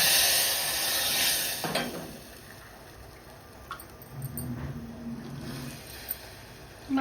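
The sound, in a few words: mustard seeds, cumin, curry leaves and spices sizzling in tempering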